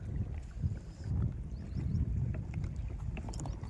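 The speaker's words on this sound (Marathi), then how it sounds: "आता वारं सुटलेलं आहे मित्रांनो, बघू शकता." Wind gusting over a small fishing boat out at sea, a steady low rushing roar with buffeting against the microphone, no voices.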